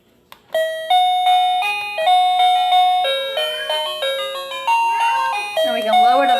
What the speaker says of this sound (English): Can our doorbell be the ice cream truck?